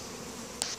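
A brief, faint buzz from honey bees at a crowded beehive rises for a moment over a quiet background hum.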